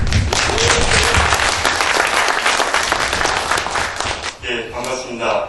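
Dense, loud audience applause fills an award ceremony hall before fading near the end, with a voice briefly coming in over the tail.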